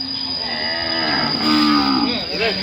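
Cattle moo in a cattle pen at a livestock market, a long, loud, close bellow rising and falling over steady background noise, with a high constant hum in the air.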